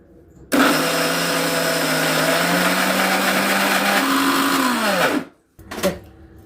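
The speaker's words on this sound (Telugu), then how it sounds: "ఇది నీళ్ళు లేకుండా వంపేసుకున్న పప్పును ఇట్లా తీసుకున్నాం మిక్సీలో వేసి" A kitchen mixer grinder whirs as it grinds drained soaked urad dal with salt for minapa vada batter, a loud steady motor drone that starts suddenly, runs evenly, then winds down and stops, followed by a brief restart.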